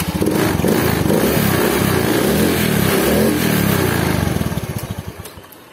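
A motorcycle engine low on engine oil running close up, revving loudly with a rough, pulsing tone before settling and fading toward idle at the end.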